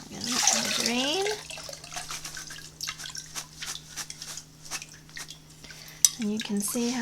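Wash water draining off vegetables scrubbed clean in a basin, with dripping, splashing and clinking of the container, and brief voice-like sounds at the start and end.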